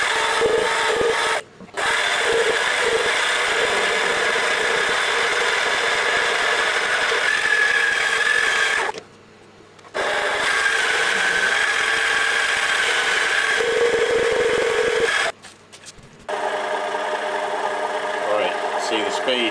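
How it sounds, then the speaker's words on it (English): Warco Chinese mini lathe running after a motor upgrade, a steady loud mechanical whine and hum that stops briefly twice, with no talk over it. "let's just spin it round and give it a test run"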